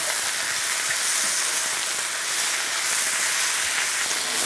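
Spinach sautéing in a pan gives off a steady, loud, close hiss and sizzle that stays continuous and even, with no voices over it.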